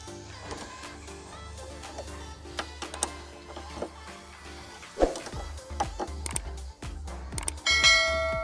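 A spanner clicks and ratchets while loosening a brake caliper bolt on a Yamaha R15, with scattered metallic taps and clinks over a low steady hum, close up and fairly faint, with a voice speaking briefly.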